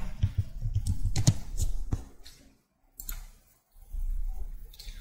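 Rapid keystrokes on a computer keyboard as a trading strategy name is entered, clustered clicking bursts with short pauses and a brief silent gap, close and moderately loud.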